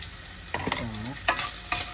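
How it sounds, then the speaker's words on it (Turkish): Onions are thrown into a hot pan for a Brussels sprouts dish, bringing a sudden burst of sizzling with clattering stirring scrapes and a couple of sharp clicks that follow close by. "Şimdi soğanlarımı da atıyorum."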